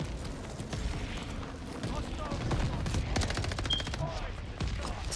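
Mortar fire and other gunfire in the Call of Duty: Vanguard video game: repeated booms and bursts of shots, some sharp and close, over continuous low rumble, with a player talking over the top.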